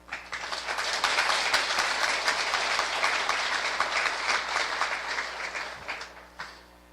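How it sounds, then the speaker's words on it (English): An audience at a community college graduation ceremony in Arkansas County, Arkansas, applauding. The dense, even clapping swells quickly, holds steady for several seconds, then fades out. No talking over it. "Please applaud them."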